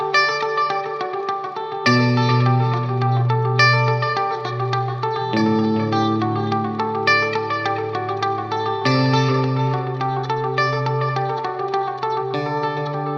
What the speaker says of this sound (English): Maybe better if we add some reverb on top of that.